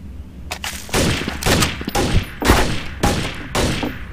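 Rapid bursts of gunfire from the Counter-Strike: Source video game, Chateau map, ringing out in repeated clusters roughly every half second, loud and close with no talk over them.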